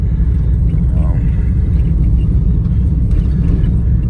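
Low rumbling engine of a 1954 Studebaker Champion gasser with a new exhaust pulling up at a muffler shop, a loud steady close burble under someone talking.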